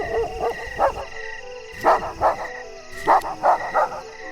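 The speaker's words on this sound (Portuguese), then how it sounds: "ouvimos um latido de cão ao longe." A dog barks from far off in irregular bursts, a single yap, then clusters of two and three barks separated by pauses, muffled and set against a quiet background.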